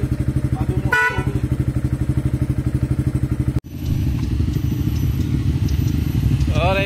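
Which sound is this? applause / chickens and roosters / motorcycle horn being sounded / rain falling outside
motorcycle horn being sounded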